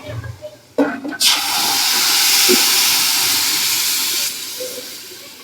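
Turmeric and curry leaves hit hot oil for a Gujarati tempering, bursting into a loud, steady sizzle and hiss that holds for several seconds before easing off, with a few faint clicks and bumps just before it starts.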